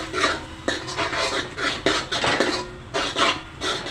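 Masala paste for misal being stirred and mixed in a pan, a rhythmic series of scraping, rasping strokes repeating roughly every half second, close and fairly loud with no talk.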